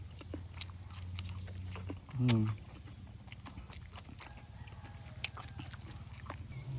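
Close-up chewing of soi ju, a northern Thai raw beef dish, eaten with fresh fern greens, soft wet mouth sounds with one louder bite in the middle over a steady low background hum.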